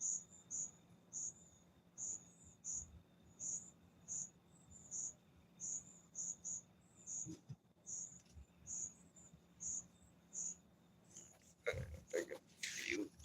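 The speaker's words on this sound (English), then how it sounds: "All you gonna hear is crickets." Crickets chirp in steady repeated pulses, a regular high trill continuing throughout, with some brief rustling and knocks near the end.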